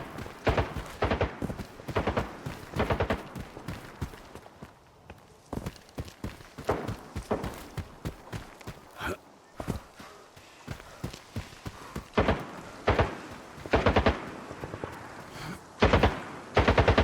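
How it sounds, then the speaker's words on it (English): Gunfire in the video game S.T.A.L.K.E.R. 2: Heart of Chornobyl comes in repeated automatic bursts and single sharp cracks, loud and close, separated by short quiet gaps across the whole stretch. "What is this shooting out here?"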